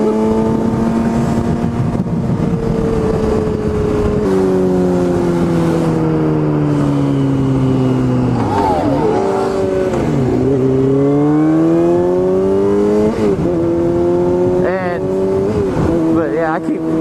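Motorcycle engine revving loud and close through second-gear wheelies, pitch climbing and falling in repeated surges, with speech over the engine noise.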